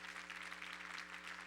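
A congregation claps steadily during a church service, a soft, continuous patter with a faint low hum running beneath it.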